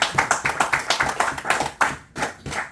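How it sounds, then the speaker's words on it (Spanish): A church congregation bursts into loud, rhythmic clapping in quick, steady beats, briefly dropping out before resuming, with no voices over it. "Denle un fuerte aplauso a Jesucristo"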